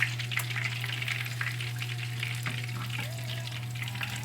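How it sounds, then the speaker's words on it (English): Oil sizzles and crackles steadily as chicken fries until brown, over a low constant hum, with faint occasional clinks, close and continuous throughout. "We're going to fry it until it's nice and brown"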